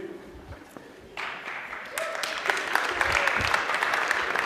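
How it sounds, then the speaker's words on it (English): Audience at a Linux talk applauding, clapping that starts scattered and swells into fuller, louder crowd applause. "Did you guys just applaud someone for taking a picture while standing on a chair?"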